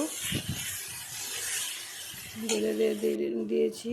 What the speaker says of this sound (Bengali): এই যে চিকেনটা এখন ঢেলে দিয়ে দিব, দেখছো চিকেনটা এখন দিয়ে দিব।